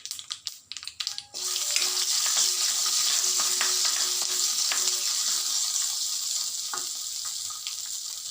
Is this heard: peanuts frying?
yes